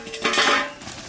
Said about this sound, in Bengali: ঢাকনাটা খুলে একটু কাঁচা লঙ্কা আর একটু গরম মশলা দিয়ে দেবো।